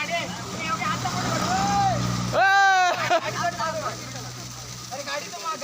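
A vehicle passes on a road near Dajipur waterfall, a rushing engine noise with a brief loud horn-like blare, while children and adults chatter and call out nearby.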